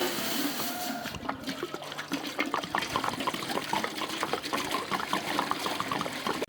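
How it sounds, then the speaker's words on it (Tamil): Water pours steadily into a large cooking pot meant for about 7 kg of rice, a continuous close splashing rush, as 14 litres are added for bulk chicken biryani. "14 லிட்டர் தண்ணி ஆட் பண்ணிக்கலாம்."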